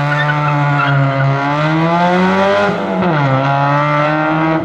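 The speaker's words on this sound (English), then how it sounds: "which is a raspy Honda exhaust sound like this." A Honda car idles and revs with a raspy, droning exhaust note from worn muffler bearings, a loud close buzzing tone that rises, dips sharply and settles again.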